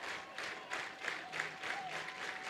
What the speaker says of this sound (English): This crowd that's been into it all evening to their feet.